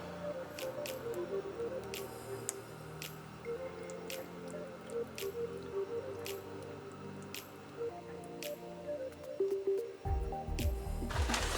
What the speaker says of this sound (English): you're going to take the sauce that you just made on the stove and you're going to pour it all over the top.